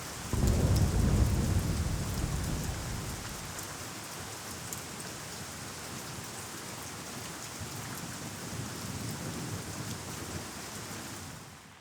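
Steady rain patters on surfaces beside a supermarket car park in On Nut, Bangkok, while a deep rumble of thunder rolls in at the start and fades, leaving the rainfall continuing alone.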